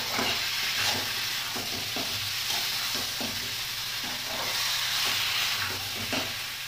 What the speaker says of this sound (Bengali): মাংসটা দিয়ে আমি ভালো করে কষাবো।